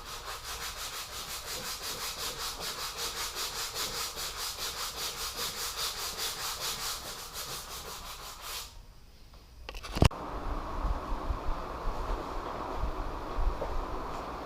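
A plastic fender is sanded by hand with 120 grit sandpaper: steady, rhythmic back-and-forth rasping strokes, close and even, for several seconds. A brief knock follows, then softer, uneven scraping.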